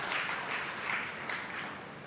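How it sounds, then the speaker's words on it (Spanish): A church congregation gives a faint, steady round of applause, with dense clapping spread evenly over the whole stretch and no distinct individual claps. "Fuerte el aplauso."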